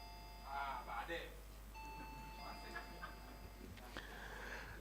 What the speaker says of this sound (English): Let me hear the bell from West End University.